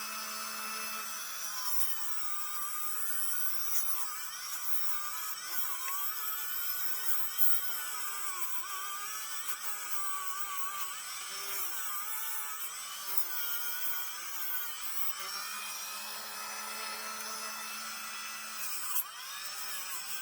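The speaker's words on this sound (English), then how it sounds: "with our little Dremel tool" A small Dremel rotary tool fitted with a wire brush scrubs buildup off a Toyota Tundra brake bracket, giving a steady high-pitched whir with grinding, scratchy texture that runs continuously and close for the whole stretch.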